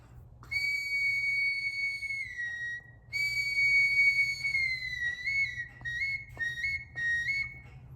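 A high, clear handmade wooden Native American-style whistle plays sustained notes with small pitch slides and short breaks, loud and close, no talking.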